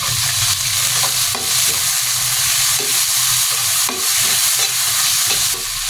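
Onion sautéing in a pan while being stirred steadily, the broadband sizzle of frying running constantly with repeated scraping strokes of a spoon against the pan roughly every second, close and loud, with no voices.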